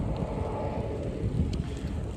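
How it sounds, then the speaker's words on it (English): Low, steady roar of wind buffeting the microphone, close and continuous for a couple of seconds. "It's windy out."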